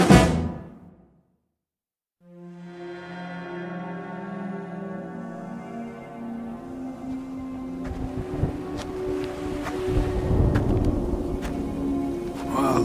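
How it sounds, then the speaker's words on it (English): A thunderstorm builds as a radio drama sound effect, with low rolling rumbles and a rising wash of noise that swells toward the end. Sustained tonal music plays over it. "Looks like a storm's coming in."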